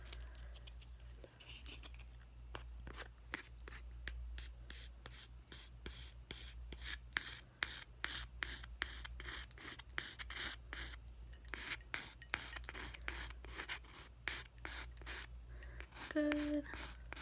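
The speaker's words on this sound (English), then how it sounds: "let's get the excess filed off." Fingernails filed to remove excess during a holiday manicure, heard as a quick, rapid series of soft rasping strokes close by, continuing steadily throughout at low volume.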